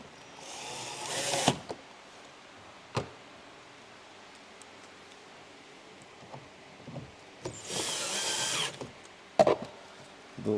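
A power driver tightening two Torx screws on a Chevrolet Cruze door trim makes two separate whirring bursts, each about a second long, with small clicks and handling taps between them in a quiet space.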